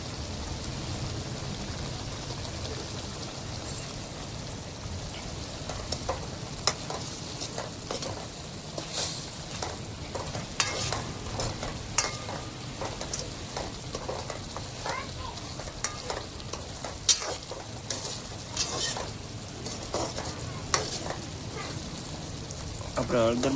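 Shrimp sizzle and fry in a pan after turmeric is added, with steady crackling and frying noise throughout and occasional stirring clatter, close and continuous.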